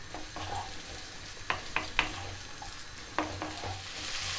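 Vegetables stir-fry in a pan with a steady low sizzle, broken by several sharp scrapes and taps from stirring, fairly quiet and close.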